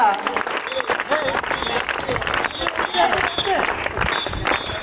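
Loud, dense applause from a crowd of children at a high school zonal sports meet, with voices talking over the steady clapping throughout.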